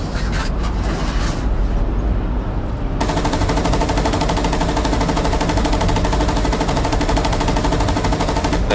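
T-72 tank gunfire in the PC game Gunner HEAT, a loud continuous roar of rapid automatic fire and engine rumble, dense and sustained with a sharp shift in intensity partway through.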